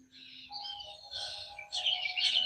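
Birds chirp and tweet at dawn in a tree, several overlapping calls, some near and bright, with a soft steady hum underneath.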